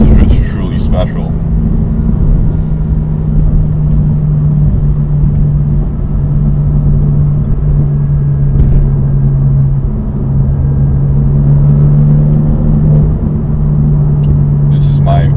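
A BMW M4 GTS engine drones at a steady low pitch through a spirited drive, the loud cabin rumble holding constant under a passing voice, with a few brief clicks at the start and end.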